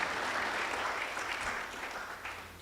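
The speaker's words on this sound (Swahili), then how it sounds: "tumpe makofi ya nguvu zaidi" An audience at a mining, oil and gas forum claps steadily for a few seconds, a moderately loud crowd applause that slowly tapers off.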